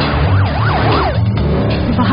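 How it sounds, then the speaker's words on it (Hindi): An ambulance siren wails loudly and close by, its pitch sweeping up and down in a rapid rhythmic cycle over rumbling road traffic. "एक कॉल करने से तुरंत एम्बुलेंस आ गई"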